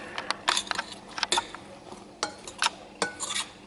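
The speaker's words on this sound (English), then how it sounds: "Little stir." Spoon stirring a thick, sticky apple mixture in a pot, giving a string of short, close scraping clinks and clatters in uneven bursts with quiet gaps between.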